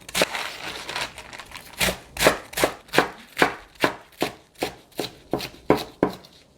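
A knife chops napa cabbage on a cutting board, slicing it into pieces under a centimetre thick for a soybean-pulp stew. About fourteen sharp, close, evenly spaced chops land in a steady rhythm, with no talking.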